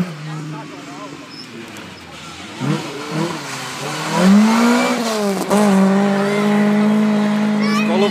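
A Volvo rally car on a stage of the Kerava rally approaches and tears past at speed, engine rising and falling through gear changes, growing loud and close, while a commentator talks over it.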